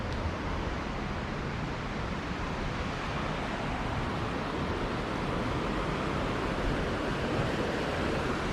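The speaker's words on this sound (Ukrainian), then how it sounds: "Ну, Ось оце ця річка, з якої водопад був, тут впадає." A steady, dense rush of a boulder-strewn river below Patna waterfall in India fills the whole clip, broadband and unbroken, with no voices.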